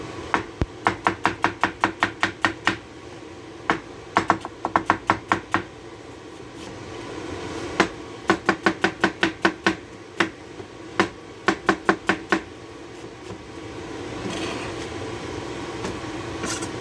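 A knife chops onions on a cutting board in quick close bursts of sharp knocks, grouped in rapid runs separated by short pauses. No talking.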